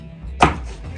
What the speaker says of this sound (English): Karate chopping peppers